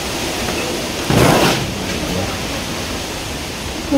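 A steady roar of strong typhoon wind, with one louder gust surging partway through.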